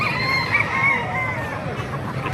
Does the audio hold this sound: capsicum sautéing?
no